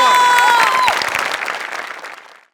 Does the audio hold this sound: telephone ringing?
no